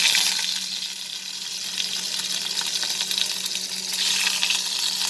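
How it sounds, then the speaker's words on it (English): Paneer pieces frying in heated oil for a shahi paneer dish, a steady close crackling sizzle with dense spitting that swells slightly near the end, with no talking. "now I am going to fry these paneer pieces"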